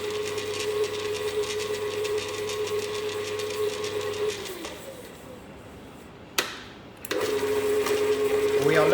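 An electric mixer on speed 2 whirs steadily while beating butter and sugar for pastry, a constant motor hum that stops briefly, is broken by a sharp clatter, then resumes loud and close.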